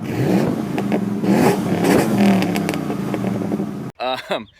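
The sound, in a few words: 2005 Nissan Xterra engine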